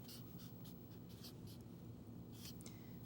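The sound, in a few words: writing with a pen or marker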